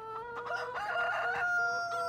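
Chicken clucking and crowing in Farming Simulator 2013, a steady run of bright, tonal fowl calls lasting the whole moment, fairly close and loud, with no talking over it.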